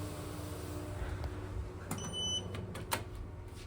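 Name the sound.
Schindler 5500 MRL traction lift doors closing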